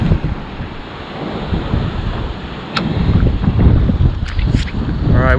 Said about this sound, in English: we won't get too close just in case the waves do smash up a bit high unexpectedly